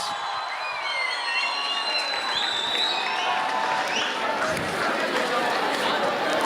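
Crowd applause at a graduation ceremony mixes steady clapping with chatter, scattered whoops and cheers in a large hall, and the applause rises toward the end.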